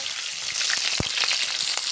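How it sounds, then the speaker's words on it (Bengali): Chopped onion frying in hot oil with bay leaf, whole garam masala sticks and cardamom, a close, continuous sizzle with brief crackles and one sharp spatter near the middle. "পেঁয়াজ ভাজা হয়ে গেছে"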